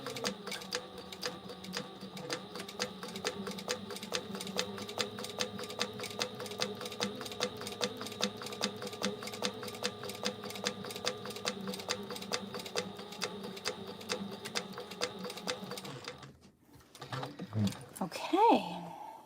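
Sewing machine top stitching a clutch with repeated back stitches, a steady fast mechanical needle rhythm running continuously for most of the clip before stopping, followed by brief handling noise and faint talk.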